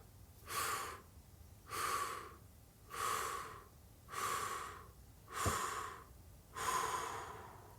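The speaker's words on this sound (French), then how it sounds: "Encore, j'inspire. J'expire." Slow, calm breathing through a deep relaxation exercise, six even airy breaths evenly spaced about every second and a half, close and soft with no talking.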